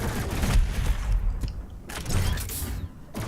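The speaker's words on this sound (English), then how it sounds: "Shoot these guys with a heavy cannon" Heavy cannon fire from the shooter Doom Eternal, bursts of rapid booming shots in two clusters with mechanical clanks between them, loud and close, with no voices.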